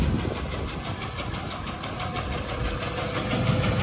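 A farm tractor engine runs steadily beside a bale bed during fall soybean harvest, a loud, continuous mechanical drone with a faint pulsing rhythm and no voices.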